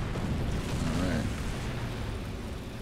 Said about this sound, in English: I feel like those are bombs coming.